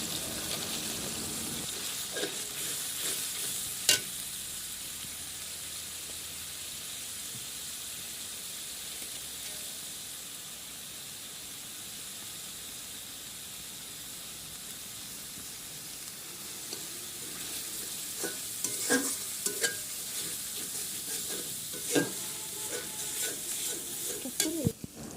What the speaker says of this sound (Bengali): তো যে আমার তেল গরম হয়ে গেছে, এখন আমি একে একে সব মশলাগুলো দিয়ে দিব।